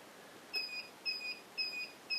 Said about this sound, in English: there's the beeps every 5 minutes, or every 2 minutes or something like that